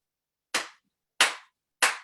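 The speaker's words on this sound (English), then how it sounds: "Now there's a hand clap I'm going to do." Three sharp hand claps spaced evenly about two-thirds of a second apart, close and crisp with silence between them.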